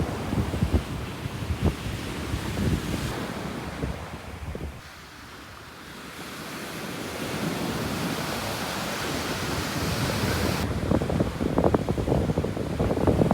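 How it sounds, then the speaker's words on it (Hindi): Strong sea waves crash and roll at the shore under gusty wind, a loud, continuous roar of surf with heavy wind buffeting the microphone and a brief lull midway. "कितना तेज लहरें हैं यार"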